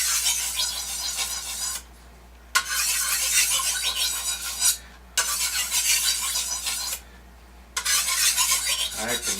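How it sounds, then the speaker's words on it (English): A knife edge stroked against a sharpening stone in four long rasping passes, each lasting about two seconds with brief quiet gaps between them, close and steady, with no voices. "I can feel that sharpening right up."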